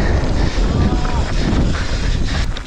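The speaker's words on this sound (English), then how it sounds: "It's too windy." Strong wind buffets the microphone on a mountain bike trail in Peru, a loud, continuous roar that swells and dips with the gusts throughout.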